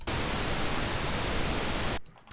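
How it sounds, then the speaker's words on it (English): Pink noise test signal played from an audio file in a recording studio, a loud, steady broadband hiss lasting about two seconds, then cutting off abruptly. "a noise generator which can generate white or pink noise"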